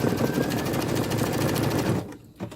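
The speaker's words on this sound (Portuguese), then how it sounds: "que a máquina está com alguma dificuldade, então eu auxilio baixando e levantando o calcador" A sewing machine stitches fabric with plastic laid over it, a loud close rapid mechanical whir for about two seconds that then stops, leaving a short pause and a faint clunk.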